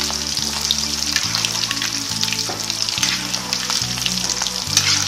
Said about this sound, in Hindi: इनको गोल्डन ब्राउन होने तक हम फ्राई करेंगे।